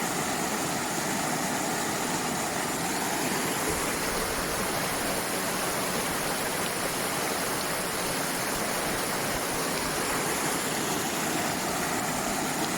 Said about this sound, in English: So there is two waterfalls that goes into that wild lake